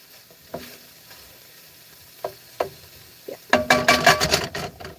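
Tofu frying in a pan with seasoning, a few faint pops and crackles at first, then a louder burst of sizzling and spattering near the end, with no talking.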